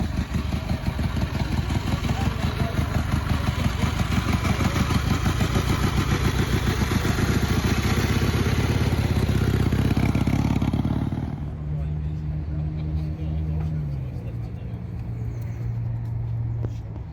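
Vintage 1930 motorcycle engine running rough up close, a loud uneven rapid chugging that cuts out partway, leaving quieter background with a voice speaking.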